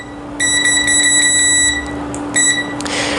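A multimeter set to continuity mode gives a loud, steady electronic beep that holds for over a second, cuts out, then sounds again in short bursts while a phone circuit board is being tested, over a constant low hum.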